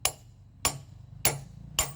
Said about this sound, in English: So I've got a copper hammer here, copper faced hammer.